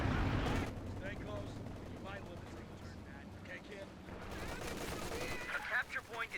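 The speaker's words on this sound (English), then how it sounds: "I don't know what the mortar carriage is shooting at" Mortar carriage fire and battle din in Company of Heroes, a dense barrage of rumbling blasts and explosions throughout with a louder eruption near the start, under a busy game soundscape.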